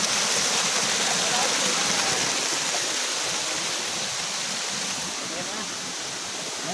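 A river near Paete, Laguna rushes steadily with a dense, close wash of flowing water that holds even and loud throughout, masking other sounds.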